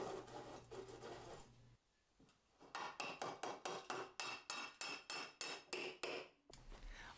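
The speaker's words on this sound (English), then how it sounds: "We needed a little help from a hammer here." Hammer blows drive a threaded rod through the wooden leg of a DIY folding patio picnic table, about a dozen sharp, evenly spaced close taps in a steady rhythm after a brief lull.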